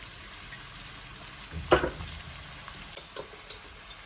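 Cauliflower with basil and pepper flakes frying in a pan, a low steady sizzle with a sudden louder stir or scrape in the middle and a few light clinks afterward, no talking.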